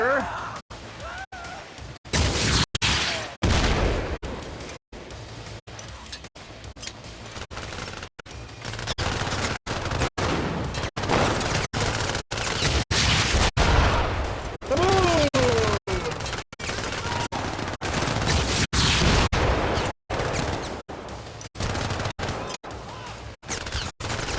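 Rocket launcher blasts and heavy gunfire in the video game Syndicate, loud repeated booms and crashes running continuously with short gaps, with a voice speaking over the action.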